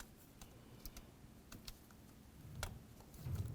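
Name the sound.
electrical connector clicking onto VVT solenoid, Nissan Sentra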